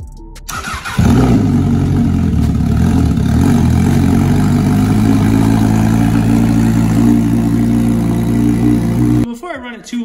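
A 2019 Honda CBR1000RR superbike being rebuilt after a wreck cranks briefly, fires and settles into a loud, steady idle that runs for several seconds before being shut off.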